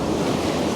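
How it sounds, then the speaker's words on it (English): Ocean waves surging onto a rocky shore, a loud, continuous rushing wash of surf close by, with wind buffeting the microphone and no voices. "Got to keep an eye on these waves,"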